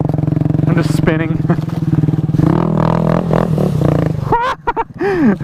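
Honda Grom motorcycle on a slick dirt track, engine droning and revving loudly up close as the rear wheel spins, with people talking over it.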